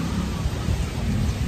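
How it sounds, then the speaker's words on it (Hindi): A strong dust storm blows as a loud, continuous roar of wind that fills the whole stretch without a break. "देखो आंधी, ये देखो आवाज भी सुन रही होगी कितनी तेज"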